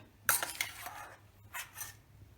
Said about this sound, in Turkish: bir kaşık yardımıyla süzüp